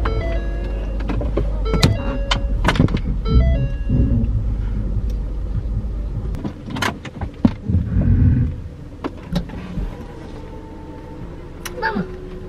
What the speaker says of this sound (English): I gotta turn my car around.